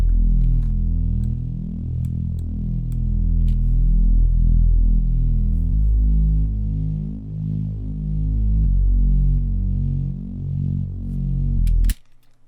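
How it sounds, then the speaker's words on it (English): A subby Reese bass synth patch built from two detuned saw-wave oscillators plays a sustained, throbbing low line that shifts pitch a few times and cuts off abruptly near the end, loud and alone. "a really simple kind of subby Reese."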